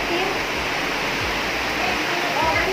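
Water rushing hard during Typhoon Odette in the Philippines, a loud, dense, unbroken roar with low buffeting gusts of wind underneath.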